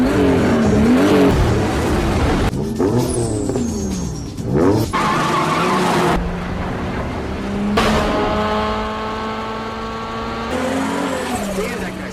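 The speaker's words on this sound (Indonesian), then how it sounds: "Akhirnya balap liar malam itu pun dimulai." Cars roar and rev in a night-time illegal street race in a movie scene pitting supercharged against turbocharged engines, with loud engine sweeps, tire skids and squeals, and a car passing close by.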